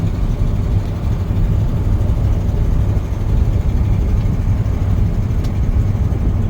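Steady engine drone from a 1994 Ford F350 4x4 pumper truck with a 7.5-liter engine cruising after shifting into overdrive, a continuous low cabin rumble heard alone without talk.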